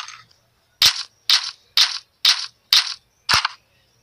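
Six sharp gunshots fire at a steady rhythm of about one every half second in the Call of Duty Advanced Block Warfare video game mod, each a loud crack with a short ringing tail, isolated against near silence.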